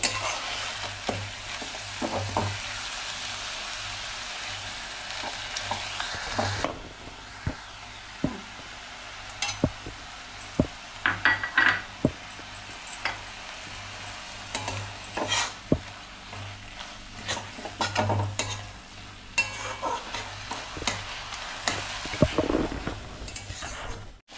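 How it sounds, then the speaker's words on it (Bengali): Spinach paneer ingredients fry in a pan, with a constant sizzle beneath repeated close scraping and knocking of a spoon stirring against the pan, the hiss dropping noticeably after the first few seconds. "ভাজতে ভাজতে দেখবো সুন্দর একটা বাদামি কালার আসবে।"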